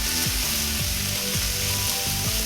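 String beans (batong) and pork stir-fried in a pan give a steady, close sizzle with soft stirring scrapes, a cooking sound that keeps going without pause and has no talk over it.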